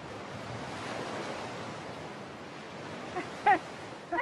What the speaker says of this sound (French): Les vagues vont t'entraîner.